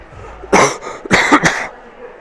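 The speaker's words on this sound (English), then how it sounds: "Excuse me, I've got a little bit of a cough." A short burst of coughing, two or three harsh coughs close to the listener, separated by a brief pause, with quiet room tone around them.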